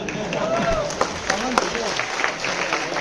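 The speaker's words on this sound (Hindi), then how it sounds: "लोगों ने तालियां बजाई, हल्ला मचाया, सीटी बजाई" A crowd at a Bhopal gathering honouring a speaker claps, shouts and whistles, a dense wash of applause with rising whistle tones threaded through it, steady and loud throughout.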